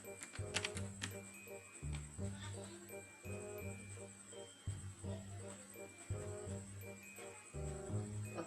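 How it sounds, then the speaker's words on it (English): Keys click on a computer keyboard as a password is typed, a steady run of light, close taps with brief pauses between them. "Then I will type password."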